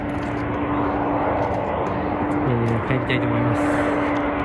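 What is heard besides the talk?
airplane landing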